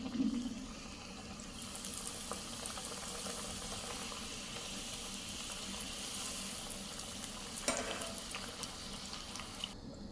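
Karjikayi (gujiya) stuffed with khoa and dry fruits frying in about a quarter kilo of oil in a pan, giving a steady, soft bubbling sizzle that runs evenly throughout with no talking.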